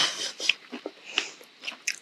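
Someone bites into a crunchy gluten-free pumpkin burger, producing several sharp, close crunches followed by quieter chewing sounds, with no talking.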